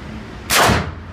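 A single loud gunshot at a shooting range, a sudden sharp crack with a short decaying echo, heard alone and close.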